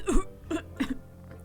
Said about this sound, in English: Don't worry about the cough. It's just the smoke.